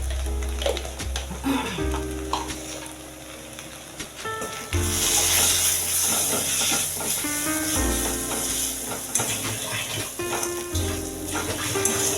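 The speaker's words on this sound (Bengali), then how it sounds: "অল্প অল্প জল দিয়ে কষে নেব" Mini potatoes with turmeric and cumin powder fry for aloo dum, with a continuous sizzle under repeated scraping and clanking stirs. The sound grows louder partway through, with music-like tonal sounds in the background.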